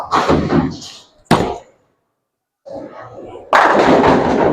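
A 16 lb bowling ball thunders down the lane and crashes into the pins for a strike, with sharp impacts, a short silence, then a loud, clattering burst of pins.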